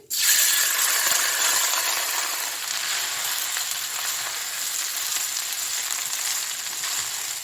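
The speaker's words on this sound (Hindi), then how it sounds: "अब यहाँ पर मैं बॉइल्ड राइस डालूंगी इसके अंदर।" Boiled rice drops into hot oil with fried cardamom and cloves, setting off an instant loud, close sizzle that holds as a dense, steady crackle for several seconds and eases only slightly.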